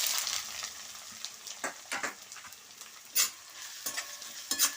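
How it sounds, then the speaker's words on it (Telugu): Sliced onions fry in hot oil with mustard seeds and cumin, a soft continuous sizzle broken by repeated scraping strokes of a spoon stirring the pan up close. "ఇప్పుడు ఉల్లిపాయలు వేగాలి"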